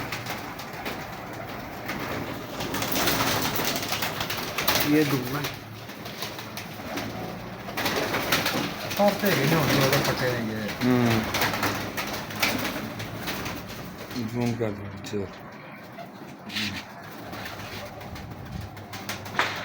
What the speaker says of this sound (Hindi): ये उस्ताद अफजल का पसंदीदा कबूतर है।